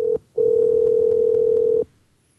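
A telephone line carries a steady single-pitch tone: a short beep, a brief gap, then one long unbroken tone of about a second and a half before it stops, clear and alone with no voices.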